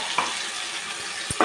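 A tomato rice mixture with salt and blended tomato is stirred in a hot pan, giving a soft steady sizzle with a few brief scraping knocks near the end.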